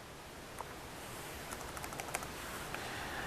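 Someone types a username on a computer keyboard: a quiet series of light, irregular key clicks over a soft background hiss.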